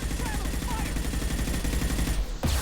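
Rapid, dense weapon fire in the video game Mass Effect 2, loud and continuous, ending in a sharp blast near the end.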